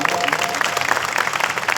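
Brief burst of audience applause at a Marathi Shiv kirtan, steady dense clapping from a crowd.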